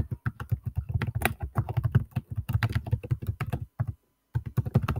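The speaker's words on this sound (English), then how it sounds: "I'm going to type my university school account." Steady, close keystrokes on a computer keyboard as an account name is typed, a quick irregular run of clicks with one brief pause near the end and no speech.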